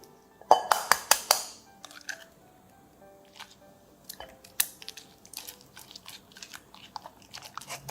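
An egg is mixed into softened butter and sugar in a bowl, giving wet, squishy stirring and scraping sounds with a few louder sticky slaps early on, then softer, intermittent mixing noises close by.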